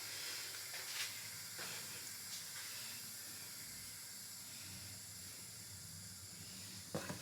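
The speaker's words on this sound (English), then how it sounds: "at the minute we're just waiting for this steam release" An Instant Pot Pro Crisp pressure cooker vents steam after cooking beetroot risotto, a continuous broad hiss that stays steady and fairly faint, with a few small clicks on top.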